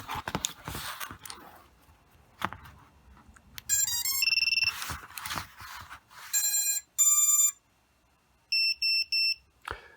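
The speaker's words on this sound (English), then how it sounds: "it is not a very loud beeper when you're turning on the quadcopter" Several bursts of short, shrill electronic beeps from a VIFLY Finder V2 drone buzzer at low volume, in quick groups, fairly quiet, between scattered handling clicks and rustles.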